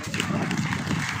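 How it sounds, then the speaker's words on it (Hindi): Dense, steady applause from an audience at an award ceremony honouring ministry staff, continuous clapping filling the short stretch with no pauses. "शोरदार तालियों के बीच में"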